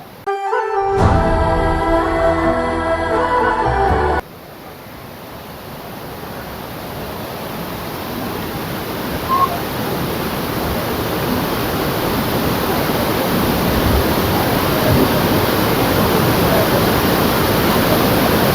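A large forest waterfall roars as a steady, loud, broadband rush that fills the whole scene after a short burst of music at the start, with no voices heard.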